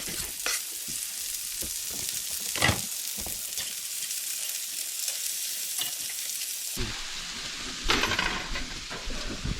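Peppers and onion fry in a pan with a steady broad sizzle, broken by scattered taps and scrapes of stirring and a louder clatter near the end; no voices.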